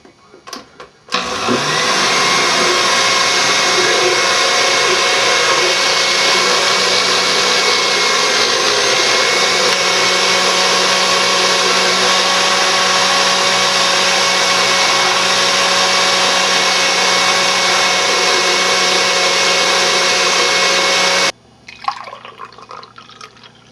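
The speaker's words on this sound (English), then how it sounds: "I'm just going to use the blender because I just find that's a great way to mix in the powders" A kitchen blender mixes powders into fresh juice. After a short start it runs as a loud, steady, close whir for about twenty seconds, then cuts off abruptly.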